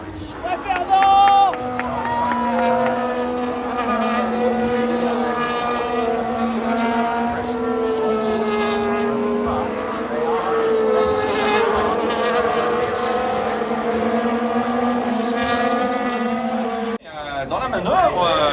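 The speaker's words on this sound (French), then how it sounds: "Dans la manœuvre, Carlos Sainz est revenu super près. Oh, de la Mercedes" Formula 1 cars at the 2022 French Grand Prix scream past with a loud, sustained high-pitched engine whine that rises and falls in pitch as they pass, ending abruptly near the close.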